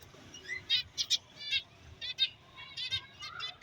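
Several quick, high chirps from a finch in short bursts with brief gaps, fairly close, over a quiet room background.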